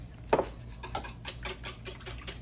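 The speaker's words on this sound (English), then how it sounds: "So we're gonna get all this mixed up first." A utensil clinks and scrapes against a bowl while stirring wet ingredients for a Trader Joe's yellow box cake mix, with soft rhythmic patter close by and no talking.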